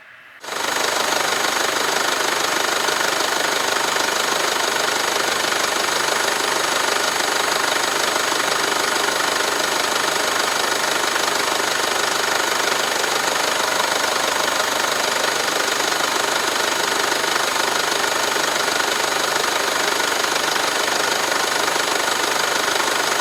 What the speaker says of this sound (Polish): A teraz dźwięk silnika po aplikacji dodatku Wagner Microceramic po przejechaniu już